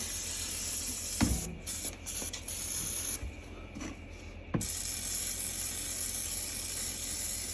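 Oven cleaner sprays from an aerosol can into the holes of anodized aluminum RC parts: a close, loud, steady hiss broken by a few short pauses and restarts.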